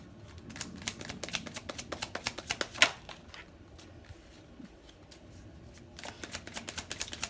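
Cards being shuffled and drawn from a tarot deck in a love reading: a run of quick, crisp riffling flicks, one sharper slap near the middle, a quiet pause, then more light card flicks close to the microphone, with no talking.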